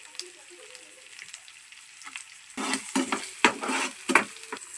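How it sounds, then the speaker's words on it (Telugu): Tomatoes drop into a hot pan with turmeric, garlic paste and kasuri methi for egg keema, setting off a loud burst of sizzling and frying after a quiet start, with several stirring scrapes and clinks close by. "ఇలా టమాటాలు వేసిన తర్వాత వీటిని కొంచెంసేపు మగ్గనిద్దాం"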